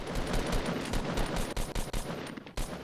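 Rapid automatic gunfire from a Fortnite match crackles in quick bursts of sharp shots, fairly loud, with brief gaps between volleys.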